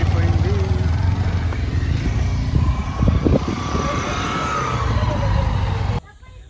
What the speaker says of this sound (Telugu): ఇలాగే ట్రాఫిక్ జామ్ అయిపోయింది